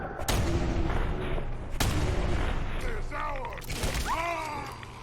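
Gunfire in the video game Fallout 4: two loud, sharp shots about a second and a half apart, each with a booming tail, followed by game voices talking.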